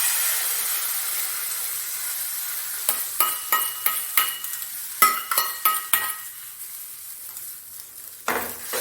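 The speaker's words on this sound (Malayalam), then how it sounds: "ഇനി നമുക്ക് ഇതിനകത്തോട്ട് മുട്ട ഒഴിച്ചു കൊടുക്കാം." Beaten egg poured into sizzling masala for egg bhurji: a strong hiss that gradually softens, then a string of sharp spoon clinks and scrapes against the pan, close and unvoiced.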